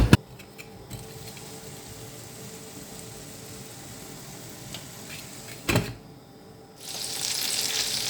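Meat cutlets fry in two pans with a quiet, steady sizzle throughout, interrupted by a brief clatter and followed by a louder hiss near the end.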